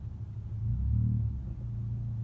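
Peak hour commuter traffic on the Mount Henry Bridge gives a continuous low rumble of passing cars, swelling briefly in the middle and then settling back to a steady drone heard from inside a vehicle.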